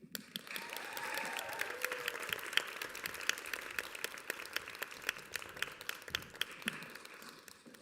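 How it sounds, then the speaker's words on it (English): Sustained applause from an audience at a Pride poetry book launch, steady dense clapping with sharp individual claps standing out, moderately near and continuing alone without speech. "a huge round of applause for Andres and Ordorica"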